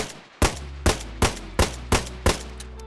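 Revolver firing in the DayZ video game, six loud evenly spaced booming shots about every third of a second, each with a short ringing decay.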